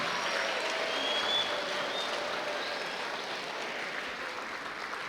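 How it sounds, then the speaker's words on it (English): A school assembly audience at a Women's History Month celebration claps steadily, a full, even roar of hands that holds for the whole stretch and eases only slightly at the close. "Big round of applause for them"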